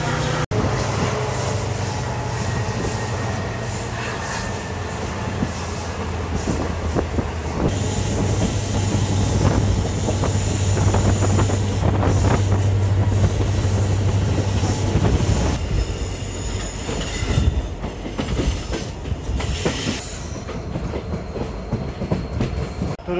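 A passenger train runs on rails between Parbhani and Nanded, its steady rumble and rhythmic wheel clatter loud and continuous from inside the coach, with brief squeals and a louder rattling stretch mid-way.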